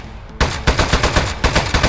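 Rapid gunfire in the video game Aperture Desk Job, loud close bursts of repeated shots in a fast irregular rhythm after a brief quiet start, with no voices over them.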